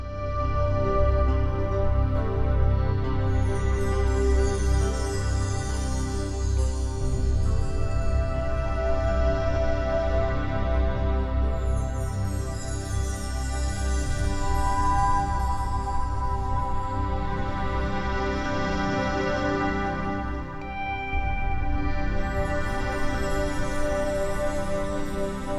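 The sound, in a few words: river water flowing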